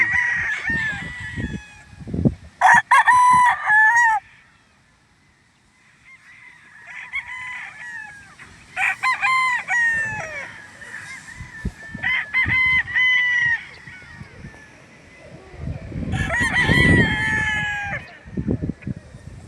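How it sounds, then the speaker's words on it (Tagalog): Several roosters crow in turn on a farm, loud and near, with clucking and scattered fowl noises between the crows. "Dami pang manok"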